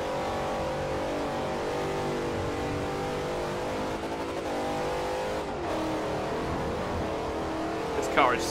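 A race car engine in the Forza Motorsport 4 video game, an 8-cylinder GT machine, roars continuously at high revs with a steady loud drone and a brief shift in pitch midway.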